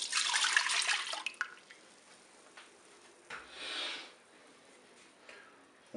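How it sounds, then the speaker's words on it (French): Milk poured into the pot of a Cookeo multicooker, a bright splashing pour in the first second or so that tapers off into quiet kitchen background with faint drips. "Je vais verser le lait dans la cuve."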